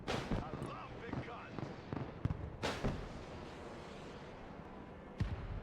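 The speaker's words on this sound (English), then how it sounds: "Keep firing stingers." Stinger missiles launching in the military strategy game Broken Arrow: several sharp, punchy bursts at irregular intervals, each with a short hissing tail, at moderate level, with quieter battle noise between them.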